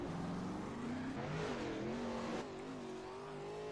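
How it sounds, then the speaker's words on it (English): 410 sprint cars on a dirt racetrack rev their engines as a group heads out, with whining, shifting engine tones rising and falling at a moderate distance. The tone drops slightly partway through. "our next group of cars out onto the racetrack"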